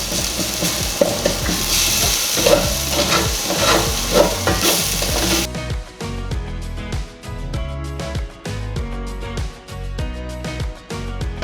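A pan scraped along its bottom as beef stew with broth cooks, with a wet bubbling sizzle and rhythmic scraping strokes from a utensil, louder and busier at first, then sharper, separate scrapes and clicks.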